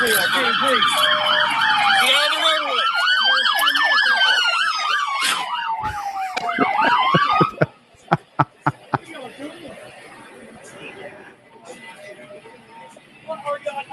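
A police car siren wails loudly and close while running code 3 through a red light, cycling through rising and falling tones before cutting off into sharp bursts and street noise.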